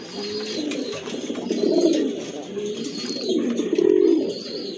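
Pigeons at a Bengali breeder's loft coo in repeated low throaty bursts, several birds overlapping at close range with faint chirps above, and no talk.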